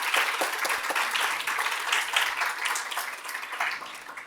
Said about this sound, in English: Please give a round of applause to our comms team